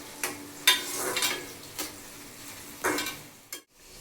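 Ground tomato goes into a frying pan with onions and is stirred, giving a sizzle with scraping and clinking of a utensil against the pan in several irregular strokes, close and fairly quiet, with no talk.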